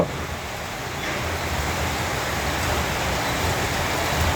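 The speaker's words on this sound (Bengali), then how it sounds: "ওরে বাবা সেই রকম বৃষ্টি হচ্ছে" Heavy, sudden out-of-season rain pouring in open surroundings, a steady dense hiss of drops that holds evenly throughout with no talking.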